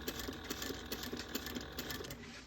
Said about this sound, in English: you're just going to go around sewing this at 1/8 of an inch